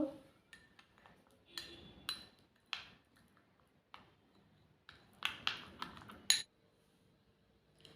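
A spoon scrapes and clinks against a bowl while coffee face pack ingredients, including a little turmeric powder, are mixed, in short, sparse bursts of light metallic tapping with quiet pauses between.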